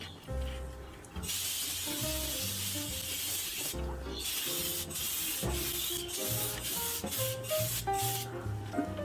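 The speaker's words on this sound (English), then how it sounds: "now is to sand it up and polish" A wooden heart-shaped jewelry box is sanded with steady, loud abrasive hissing strokes that pause briefly, while music plays underneath.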